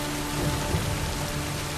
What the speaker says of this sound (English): This rain is meant to wash us off the face of this world.